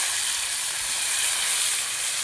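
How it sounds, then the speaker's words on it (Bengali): Salted potatoes go into hot oil tempered with black cumin seeds, and a loud, steady, dense sizzle of frying carries through without pause, close up and with no voices. "দিয়ে দিলাম এখন আলু।"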